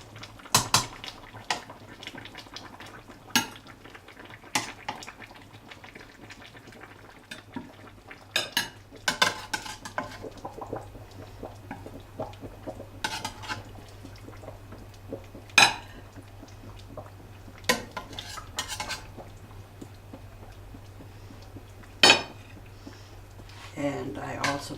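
A metal serving tool clinks and scrapes against a pot and plate while lifting pot roast potatoes, onions and carrots out, sharp intermittent clatters spaced a few seconds apart under a low background hum, with a person talking between them.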